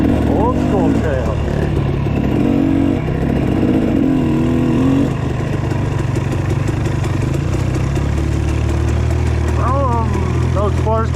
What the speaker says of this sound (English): Those 4-strokes have that nice engine braking.